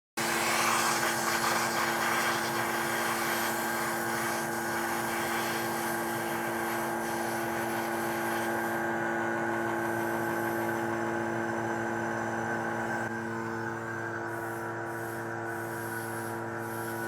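A steady, loud mechanical drone of a vacuum chamber pump degassing Alumilite resin, running continuously with no talk, its tone shifting slightly partway through.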